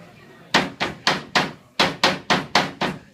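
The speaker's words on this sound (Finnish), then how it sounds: "Mulla on täällä vasara ja sitten tämmönen leikkuulauta, nappapussi. Näin, ja nyt vaan naputellaan." A hammer taps a ring held in a bag on a cutting board: nine sharp, close knocks, a group of four followed by a quicker group of five, each dying away fast.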